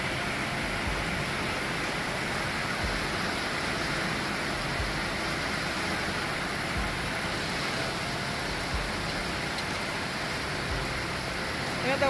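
Heavy monsoon rain pours down in Volcan, Panama, a dense, steady hiss that stays even throughout with no letup, moderately loud and close.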